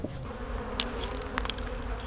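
Honey bees buzzing around a hive during late-season beekeeping, a steady low hum of many insects with a few louder passes close by, quiet and unbroken by speech.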